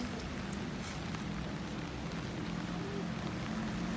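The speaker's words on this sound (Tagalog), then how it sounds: "May kalakasan po ang ulan." Heavy rain pours steadily on an urban street, a dense, constant hiss with a low rumble underneath, continuous and fairly close, with no talking over it.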